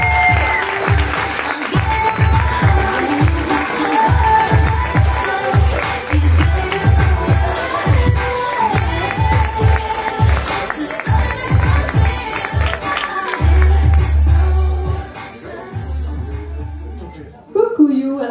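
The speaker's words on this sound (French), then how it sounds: "a besoin d'un maximum d'applaudissements." A crowd at a live show applauds and cheers loudly and continuously, with rhythmic clapping and shouts that swell, then ease briefly near the end before rising again.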